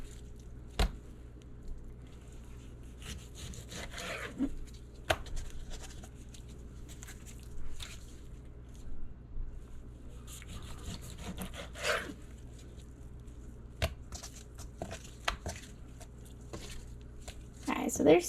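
A knife slices a pork loin into one-inch chops on a kitchen counter, giving soft, intermittent scraping and squishy cutting strokes spaced several seconds apart, with occasional quiet talk.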